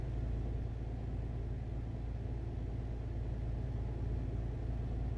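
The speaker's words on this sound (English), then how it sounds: "there's a lot of people that do like the open pipe sound" Truck engine fitted with an open pipe exhaust in Euro Truck Simulator 2: a deep, steady droning rumble with a pulsing low throb, constant and moderately loud, with no speech.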